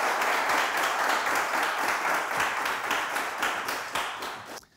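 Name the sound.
studio audience applause for game show winner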